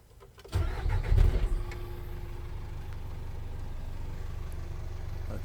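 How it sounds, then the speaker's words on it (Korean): The diesel engine of a 2015 Hyundai New County short-body 20-seat minibus with 116,000 km cranks and starts, then settles into a steady, rumbling idle close by. "엔진 소리 한번 들어보세요"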